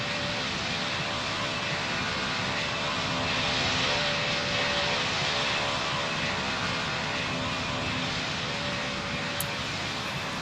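Aircraft in the Roblox flight game Pilot Training Flight Simulator coming in to land, a steady broadband engine roar holding at constant level throughout, loud and continuous with no talk over it.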